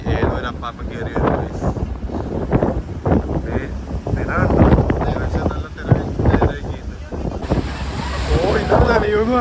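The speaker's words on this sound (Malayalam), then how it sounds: "തിര അടിക്കുന്ന നോക്കിയേ, നല്ല അടിപൊളിയായിട്ട് തിരയുണ്ട്." Atlantic Ocean waves surge and break around a ferry on a rough, windy crossing toward the Aran Islands from Doolin, with steady wind buffeting the microphone and someone talking over the churn throughout.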